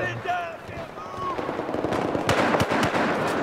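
Gunfire in the Battlefield 4 video game, sharp cracking shots that build from sparse pops into a quick rapid string, loud and close, with voices talking over it early on.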